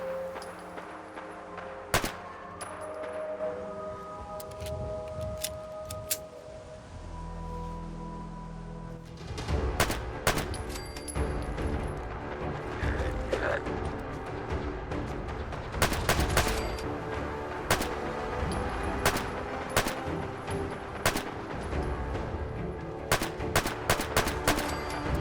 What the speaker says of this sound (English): pistol with a legendary explosive effect